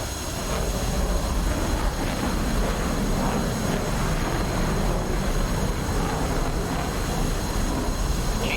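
An F-5 jet engine in the flight simulator DCS World spools up on the ground with ground air supply applied. It makes a loud, unbroken roar with a high whine layered on top, and nobody speaks.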